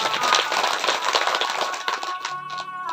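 Applause from the audience at a Shiv Purana katha, a dense spread of hand claps throughout, with steady instrumental tones running underneath and growing clearer as the clapping thins toward the end.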